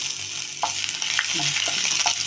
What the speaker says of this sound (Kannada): ಸ್ವಲ್ಪ ಶುಂಠಿ ಬೆಳ್ಳುಳ್ಳಿ ಈ ಥರ ಹಾಕೊಂಡ್ಬಿಟ್ಟು ಎಣ್ಣೆಯಲ್ಲಿ ಫ್ರೈ ಮಾಡಬೇಕು